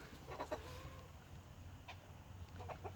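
Soft, scattered clucks from a few Australorp chickens and roosters, fairly close, over a low steady background hum.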